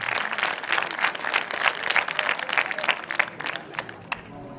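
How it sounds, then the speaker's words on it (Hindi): An audience at a school cultural program at a Navodaya school gives a warm welcome with sustained clapping, crisp individual claps standing out in the mix before the applause thins to a few scattered hands and fades. "आप उनका तालियों के साथ जोरदार स्वागत कीजिए।"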